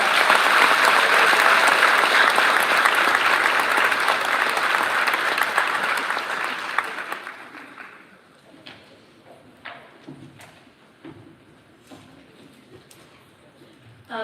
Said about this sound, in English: So if you will clap super loud for them